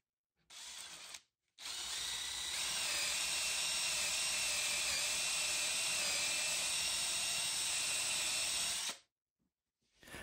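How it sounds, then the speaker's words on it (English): A power drill bores holes through the cheek of a wooden tenon for a heavily built firewood rack: a short burst, a brief pause, then a long, steady, close whirring run of about seven seconds that stops abruptly. "I can then drill the holes in the tenon cheek"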